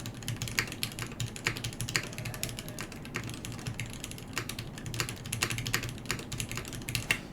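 Typing on a KBD8X MkII mechanical keyboard built without foam, a quick irregular patter of sharp, slightly hollow keystrokes with a faint metallic ping, close and fairly quiet, with no talking.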